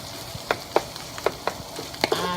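Meat browning in a pan for enchiladas, with a steady low sizzle under a series of sharp clicks and scrapes of stirring, about eight distinct knocks spread evenly across the short stretch.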